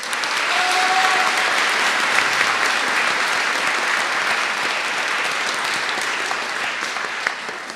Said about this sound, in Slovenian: Pa jih lahko pozdravimo z enim aplavzom.